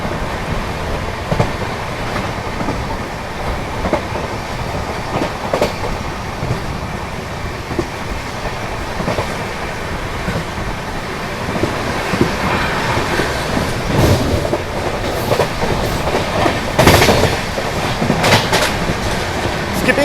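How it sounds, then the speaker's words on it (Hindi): Rajdhani Express train racing at high speed through a junction, heard from on board with a steady loud rumble of wheels on rails, rhythmic clickety-clack and occasional sharper rattles building over about twenty seconds. "बहुत ताबड़तोड़ रफ्तार में निकल रही है अपनी राजधानी एक्सप्रेस।"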